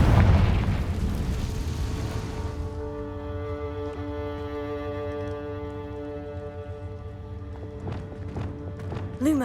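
A Confringo fire spell explodes in Hogwarts Legacy, a loud booming blast at the start that fades into a lingering resonant hum with faint clattering sounds afterward.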